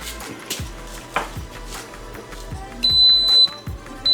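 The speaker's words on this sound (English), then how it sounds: "you're gonna hear a little beep go off and it starts" Electric pressure cooker in a home kitchen giving a single steady high beep of about half a second as it starts a cooking cycle, heard over quiet kitchen handling sounds and light clatter.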